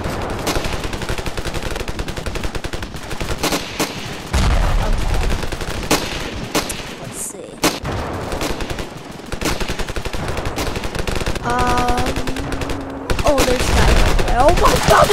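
Near-continuous automatic gunfire in the Ravenfield video game, loud machine-gun bursts and scattered shots with heavy booms mixed in, rattling on for the whole stretch under a voice talking.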